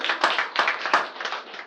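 Dense audience applause at a comedy show, loud and close, swelling in a few stronger bursts of clapping before thinning slightly, with no talking over it.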